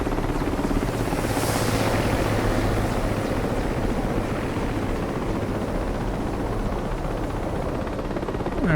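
A simulated helicopter descends to land in the DCS flight simulator game, its rotor and engine a loud, steady, continuous drone throughout.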